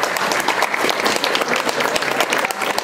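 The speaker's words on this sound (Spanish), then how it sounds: "Le damos fuerte aplauso a Nicole." A crowd at a baptism celebration claps loudly and steadily for a girl named Nicole, a dense close burst of applause lasting the whole moment with a faint voice underneath.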